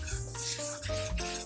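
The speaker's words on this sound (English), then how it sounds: "Stir that together." Dry baking powder, baking soda and salt stirred together in a bowl, a soft continuous scraping rub with no talking.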